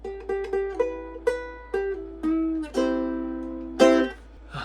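A bright plucked ukulele riff: quick picked notes followed by a few strummed chords, close and clear, with no voices.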